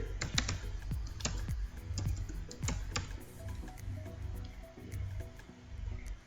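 Code being typed on a computer keyboard in a C++ programming lesson: clusters of quick, close key clicks in uneven bursts, fairly crisp and steady over a soft background hum.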